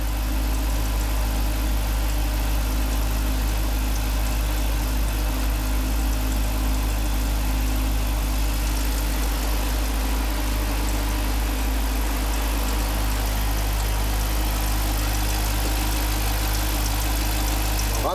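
A 2015 Jeep SRT engine idles steadily after a Prins VSI 2.0 LPG autogas conversion, giving a continuous, even low rumble close by with no voices over it.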